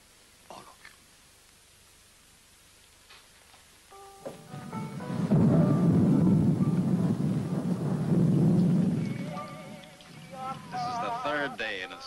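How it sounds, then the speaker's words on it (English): Heavy rain swells into a loud, steady rushing wash that peaks midway and then eases slightly, with a few brief tones and soft voices at the edges. "Third day and it still hasn't stopped raining."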